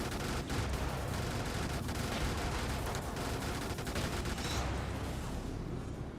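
High explosive blasts in the video game Brigador: a dense, continuous roar of explosions and gunfire, steady loudness throughout, with no clear pauses and no voices.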